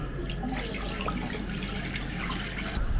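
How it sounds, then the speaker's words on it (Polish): A foot-pedal operated water tap in a public toilet in Lombardy, Italy, pouring steadily into a basin, a continuous close splashing rush that cuts off abruptly at the end. "Kran. I wody się odkręca, no właściwie nie odkręca, tylko nadeptuje."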